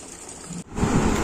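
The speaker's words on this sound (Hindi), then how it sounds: "तब तक मैं पानी भर लेती हूँ" Water pouring from a tap into bottles in a home kitchen, a steady splashing rush that dips briefly and then grows fuller and louder as the bottle fills.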